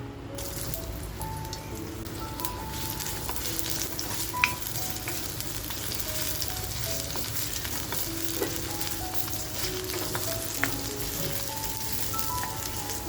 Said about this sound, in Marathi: थोडंसं तेल टाकते. त्याच्यानंतर आपण जो कांदा कापून घेतलाय तो अगोदर कांदा टाकून घेऊया.